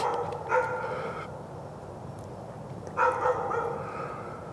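Dog barking outdoors at a rural building site in Thailand during monsoon season, two short bursts of barks about three seconds apart, moderately close, with steady background ambience and no talk.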